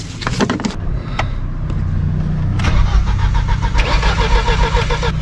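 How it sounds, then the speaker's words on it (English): Starter cranking over the engine of an old barn-find Ford Sierra station wagon, a few short bursts, then a steady churning, rhythmic whir that grows louder and more continuous, close by with no talk. "Yeah, the engine is turning over."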